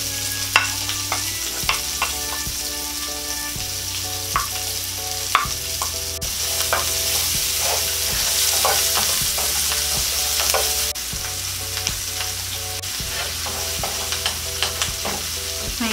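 Onions sautéing in a pan for tuna kaldereta, a steady close sizzle broken by repeated spoon scrapes and taps, with background music running beneath.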